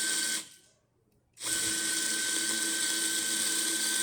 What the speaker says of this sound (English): since these burrs are really big, it grinds through a lot of coffee really quick